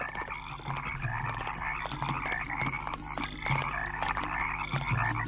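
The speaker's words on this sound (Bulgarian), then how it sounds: "Фараонът затвори Мойсей в двореца, а жабите ставаха все повече и повече." Many frogs croak in a dense, overlapping chorus, steady and fairly loud throughout, heard as a plague of frogs spreading through ancient Egypt in a 1999 animated film about Moses, with no speech over it.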